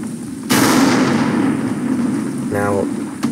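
Artillery and cannon fire in the tank game Total Tank Simulator: a heavy boom breaks in and rumbles on in a long roar, then a second, sharper blast follows near the end, all loud and without talk.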